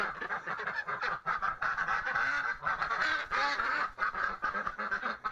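Startled ducks and geese quack and honk in a loud, continuous clamour close by on a farm during morning chores, dense overlapping calls with no pause.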